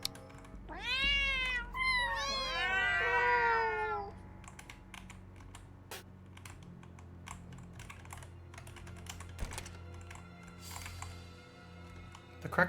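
A cat meows a few times in quick succession in the horror puzzle video game Ib, with clear rising and falling cries, followed by steady clicking computer-keyboard typing.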